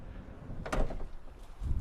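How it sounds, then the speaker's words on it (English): The sliding side door of a Roadtrek Play Class B camper van rolls along its track after being unlatched, a short rumbling slide with a clunk near the middle and another thump at the end, close and fairly clear. "To close the door, unlatch it again, and then it slides freely."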